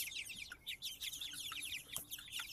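Red Ranger broiler chickens about three weeks old out on pasture, giving a busy chorus of overlapping clucks and chirps, fairly close and steady throughout.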